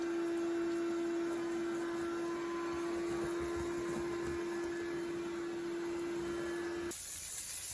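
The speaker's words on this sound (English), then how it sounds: "and then we hit it with the shop vac" A shop vac runs steadily while vacuuming up loose concrete debris from a cracked, chipped slab being repaired, a constant loud whine and hiss that cuts off abruptly near the end.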